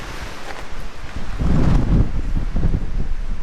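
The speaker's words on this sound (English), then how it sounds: "it is blowing an absolute gale" Strong wind buffets the microphone in loud, roaring gusts that build and stay heavy throughout.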